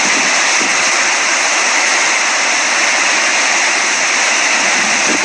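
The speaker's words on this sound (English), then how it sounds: "The rain is coming down now" Heavy rain pours down in Miami during Hurricane Irma, a loud, dense, unbroken hiss of falling water with no voices.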